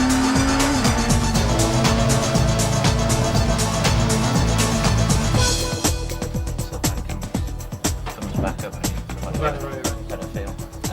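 A 1996 BTCC Vauxhall Vectra touring car is driven to the limit on track. The engine roars loud and close throughout, with rising and falling revs and squealing tyres, easing slightly in the second half.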